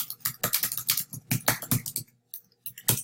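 Quick, close computer keyboard typing while entering a search, with rapid bursts of key clicks, a short pause, then a few final taps, with no talking.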